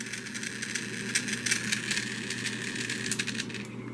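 A Trackmaster Percy toy train engine runs with a steady, buzzing motor whir, close and fairly quiet, with faint rattly clicks from the wheels over the whole stretch.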